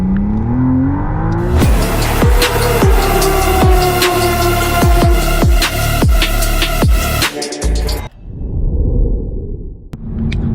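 McLaren Artura twin-turbo V6 hybrid supercar driven hard in track mode, the engine revving loudly and climbing through repeated quick gear shifts, then a sudden cut and a short burst of revving, close and with no talk.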